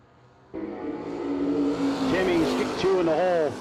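Drag racing cars at a No Delay Nationals event roar off the line at full throttle, loud engines with rising and falling revving pitch sweeps, a race announcer talking over the noise.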